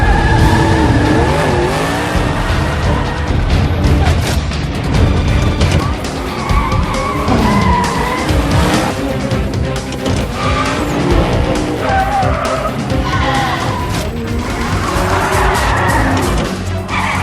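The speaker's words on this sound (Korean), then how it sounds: "드디어 시작된 레이스." Street race cars accelerate hard and skid in a loud, dense film race scene, tires squealing over continuous engine roar and a layered soundtrack, with no talk.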